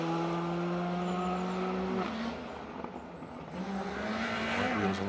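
A Peugeot 306 Maxi rally car, white wheels at front and gold at back, laps Cadwell Park circuit during a circuit rally stage: a steady, sustained engine drone at moderate distance, dipping briefly midway then rising again as it accelerates.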